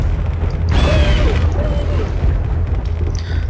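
Grinding mechanism lowering something in the Hexen video game, a loud rumbling, creaking low drone with metallic scraping tones rising over it, continuous throughout.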